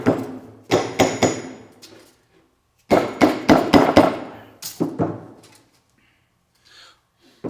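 Repeated blows from a dead blow hammer driving a part on a Farmall Super H tractor under restoration, struck on a bouncy surface: two bursts of four or five loud close thuds, then a couple of single hits.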